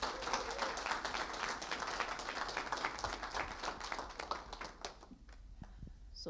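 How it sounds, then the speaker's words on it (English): Audience at a professional panel session on oil and gas gives steady applause, a dense wash of clapping that carries for about five seconds, then thins out to a few last claps and quiet. "Please, a warm round of applause for Vandana."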